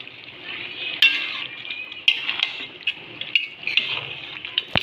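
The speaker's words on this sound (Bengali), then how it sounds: "এবার এটা দিয়ে ভালো করে কষাতে হবে।" Mutton masala curry sizzles in a pan while a utensil stirs it, a steady frying hiss broken by several sharp scrapes and clinks of the spoon against the metal.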